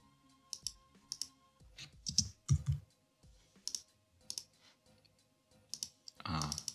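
Computer keyboard on a Mac tapped to rename a shortcut, giving scattered quiet clicks and short bursts of keystrokes at close range, with a louder clatter near the end and no talking.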